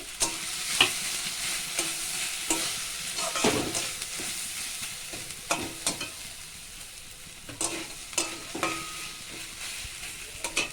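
Ground raw coconut paste is stirred in hot oil, a continuous sizzle punctuated by repeated scraping strokes of a spatula against the pan, close and fairly loud with no voices.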